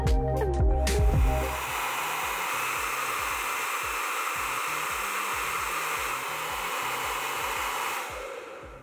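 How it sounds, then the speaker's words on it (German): A hair dryer blasts on its high setting, a loud steady rushing hiss that fills the space from start to finish before cutting off at the very end, with a few brief clicks and tones at the start and no voices. "auf der höheren Stufe geht er tatsächlich auf die 90 zu und ist damit auch von unseren getesteten Föhns der lauteste"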